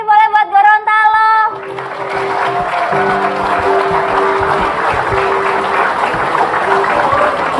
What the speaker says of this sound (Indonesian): Tepuk tangan sekali lagi boleh buat Gorontalo.